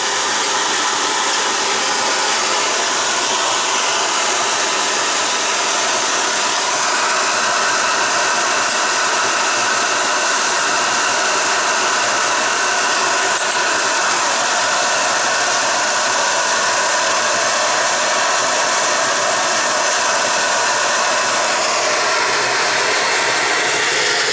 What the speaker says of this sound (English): Both stoves are on full throttle.